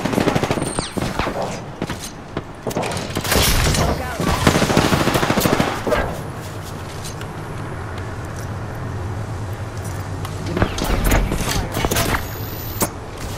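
Rapid bursts of gunfire in an Apex Legends match crack loudly in the first six seconds, then give way to a lower droning background with a few more sharp shots near the end.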